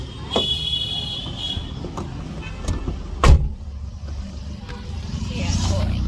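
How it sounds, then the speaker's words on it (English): Someone climbs into a car with a sharp door thud near the middle, over a steady low engine or road rumble, with a few smaller clicks and knocks around it and a faint high whine early on. "I'm getting into the car."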